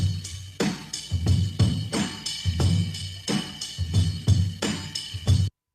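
An original high-pitched sampled drum break playing as a loud, punchy looped pattern of kicks and snares in steady rhythm, stopping abruptly, with no talk.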